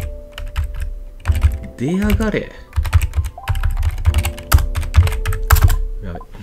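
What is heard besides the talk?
typing on a computer keyboard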